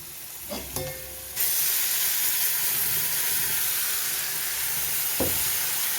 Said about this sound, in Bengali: প্রেসারে সিটি পড়ছে, প্রেসারটা অফ করে দেবো